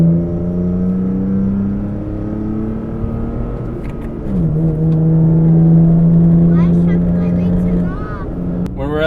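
A Toyota truck with an MBRP exhaust drones steadily at around 2100 RPM in fourth gear, a loud, even low hum with a brief dip in pitch midway, heard from inside the cab with a voice speaking over it.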